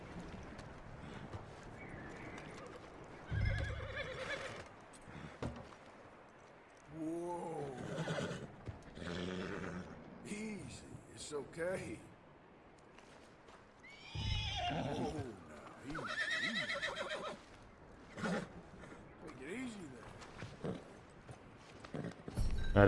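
A horse in Red Dead Redemption 2 neighs and whinnies repeatedly in loud, close, shaky bursts with snorts and hoof clatter between them, while someone talks over the game sounds.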